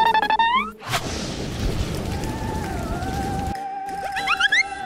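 Steady rain pouring in a dense, hissing wash for a few seconds, framed by chiming musical tones before and after, in a cartoon story about paper dolls.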